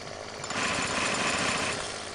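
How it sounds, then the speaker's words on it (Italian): Chainsaw running in the video game 7 Days to Die, a loud continuous buzzing rasp that swells after half a second and holds steady, heard alone without talk. "Riproviamo la motosega, vediamo se riparte."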